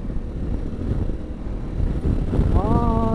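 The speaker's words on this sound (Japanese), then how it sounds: "とにかくあっちゃこっちゃから吹いてくるこの爆風" Wind blast roars and buffets around a SHOEI J-Cruise 3 sport jet helmet on a moving motorcycle, a steady broadband rush that swells louder as the rider accelerates, with a brief rising tonal whine near the end.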